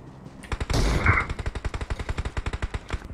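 Rapid automatic gunfire from PUBG Mobile gameplay, a long run of evenly spaced loud shots crackling one after another for several seconds, with no talk over it.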